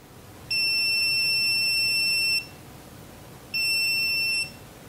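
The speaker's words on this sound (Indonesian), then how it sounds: "ketika ini saya pegang, dia bunyi tit gitu ya" A Habotest voltage tester gives two high, steady electronic beeps, one about two seconds long and a shorter one after a pause, clear over a quiet background with no talking.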